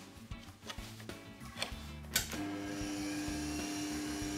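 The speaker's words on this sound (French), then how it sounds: "augmenter sa vitesse de rotation et on vient percer." A Sidamo 30 CVTE drill press working a piece held in a vise: a few clicks and knocks as it is set up, then the motor spins up into a steady whining hum, close and with no talking.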